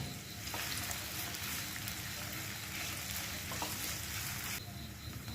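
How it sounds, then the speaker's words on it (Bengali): Chopped onion frying on a high gas flame, a steady, fairly quiet crackling sizzle throughout with no voices. "পেঁয়াজটা দেওয়ার পর গ্যাসটাকে হাই ফ্লেমে রেখে দু মিনিট ভেজে নেব"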